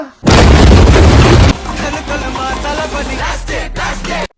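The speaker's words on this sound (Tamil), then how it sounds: "13 குக்கர் வெடிச்சிருக்கு. 14வது வெடிச்சிடாதா?" A pressure cooker bursts at home with one loud, close explosive boom, followed by a few seconds of clattering and rattling debris.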